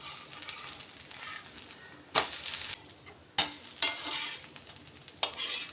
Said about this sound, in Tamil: மேலே இந்த அளவுக்கு நல்லா பொரியணும்